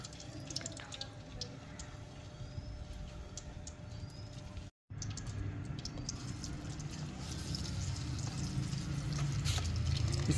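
Onions fry in hot oil for chicken karahi, a steady close crackling sizzle that swells slightly louder toward the end, with a brief dropout midway and no talk.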